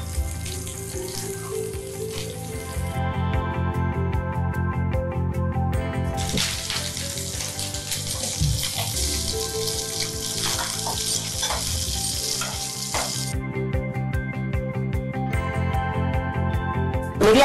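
Curry leaves and coriander drop into hot oil for a mint chutney, giving a loud, steady crackling sizzle that swells and eases, heard close with no talking.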